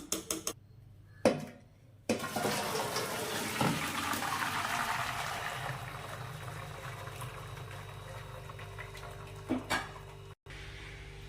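Water from parboiled rice for Hyderabadi chicken dum biryani is poured off through a strainer, a steady close rush of draining liquid that begins after a few knocks and clatters and then runs on continuously.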